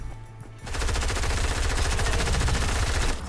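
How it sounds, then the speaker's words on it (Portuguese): Sustained rapid gunfire in a first-person shooter video game, loud and dense after a quiet start, rattling continuously for over two seconds as shots are fired at the player. "Não sei de onde tá me atirando."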